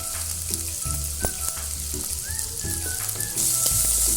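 Onion, garlic and asafoetida sautéing in oil for a flat bean and peanut sambar, a steady sizzle with spatula scrapes and clinks against the pan, the frying swelling louder near the end.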